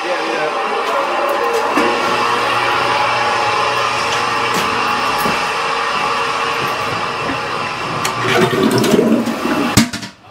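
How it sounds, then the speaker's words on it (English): Toilet flushing with a loud, continuous rushing of water lasting several seconds, ending in a gurgling surge as the bowl drains, heard up close in a house while a drain is being repaired. "I go flush the toilet."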